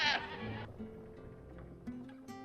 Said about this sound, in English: Patch Tech summoned the goat.